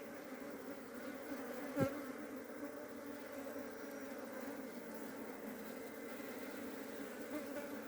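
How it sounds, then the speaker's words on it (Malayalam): Honeybees from a karinjodiyal colony buzz at the hive as a steady, dense drone, with one brief louder pass of a single bee close by. "കാണാം കരിഞ്ഞൊടിയിൽ തേനീച്ചകളെ"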